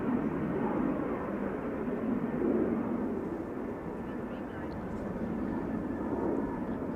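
A KLM Boeing 737-800 taking off at Amsterdam Schiphol, its engines giving a sustained rumbling roar with a deep low drone that rises and eases gently, fairly near and continuous.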